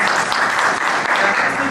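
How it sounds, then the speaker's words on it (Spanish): Audience applause welcoming a doctor to speak at a university talk on a culture of peace, a dense, loud, continuous roar of clapping filling the room. "les pido que reciban con un aplauso a la doctora"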